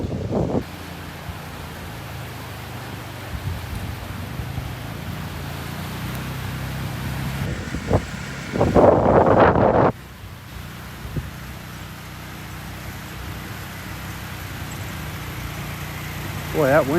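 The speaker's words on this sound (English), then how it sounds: "Boy, that wind" Steady wind blows across a Gulf beach on a morning walk, a constant broadband rush with gusts buffeting the microphone, a louder burst near the middle, and people talking briefly under it.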